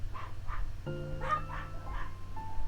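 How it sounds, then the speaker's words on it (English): A small dog yaps a few times in the background, faint and distant, while a sustained electronic tone plays over it. "Sorry for the dogs in the background."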